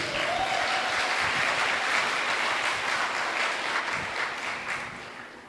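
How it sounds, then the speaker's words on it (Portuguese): A congregation at a church prayer meeting gives a steady, dense round of applause that holds for several seconds and eases slightly at the end. "Uma salva de palmas para vocês."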